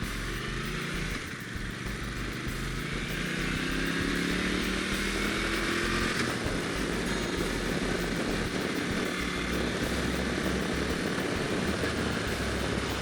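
A Moto Guzzi Norge motorcycle riding at speed on the way to a freeway, with steady engine drone and heavy wind rush throughout, loud and continuous with no talking.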